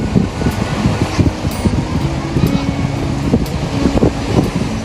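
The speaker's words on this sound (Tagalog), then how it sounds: "Lakas ng hangin." Gusty wind at a beach resort in Sariaya at low tide rumbles against the microphone close up, with a low irregular flutter and some faint background noise.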